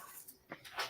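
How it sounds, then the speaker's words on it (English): A pet dog gives a few faint, brief whimpering yips indoors, spaced out over under a second, with a slightly louder burst at the end. "That's my dog."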